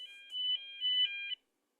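An elevator alarm beeps in short two-tone electronic pulses, a few rapid rings at modest volume before cutting off into silence.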